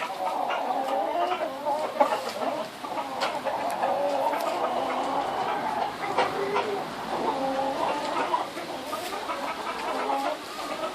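A rooster and hens cluck and call steadily for several seconds, a dense farmyard chorus of fowl sounds, fairly close and continuous.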